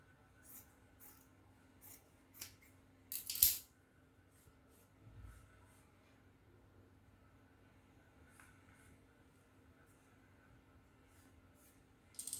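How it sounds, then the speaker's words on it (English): Scissors cutting out fabric lining pieces for a bustier: sparse, quiet snips and clicks scattered over a near-silent room, with one louder snip and a few soft handling rustles. "The next thing I'll do is to cut out the lining for these pieces."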